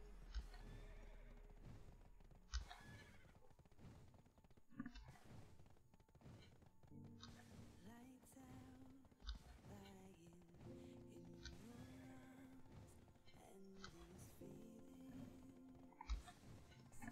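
A horse in the online game Black Desert neighs repeatedly amid clip-clopping hooves and thunks, the whinnies loud and close and the hoofbeats steady underneath.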